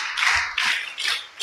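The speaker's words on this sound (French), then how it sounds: "applaudissez pour lui" Children clapping together at a Sunday school class, with a short burst of applause that rises and falls in three quick waves, close and lively, with no talk.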